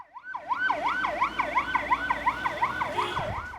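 Ambulance siren in Abidjan wailing in a steady, rapid up-and-down rhythm, loud and close, with a faint road rumble underneath and no talk.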